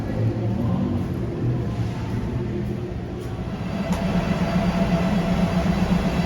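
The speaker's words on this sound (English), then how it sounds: "the train has arrived" A Bangkok to Hua Hin passenger train arriving at the station, a steady low rumble and rolling wheel noise building slightly toward the end, with faint squeals and distant clatter, no nearby talk.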